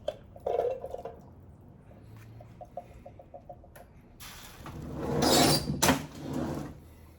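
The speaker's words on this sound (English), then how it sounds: "you pop the can open and you pour the beans" A few light clicks and taps, then a wet sloppy rush of canned beans sliding out and plopping into a pot, with short scraping bursts.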